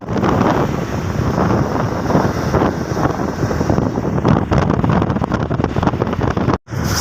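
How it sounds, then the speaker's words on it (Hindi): Strong wind buffets the microphone while a motorbike rides through cold Delhi streets, a continuous loud rushing roar with gusty fluctuations and a brief dropout near the end. "डिस्टर्बेंस भी आपको लग रही होगी, बट ये हवा है।"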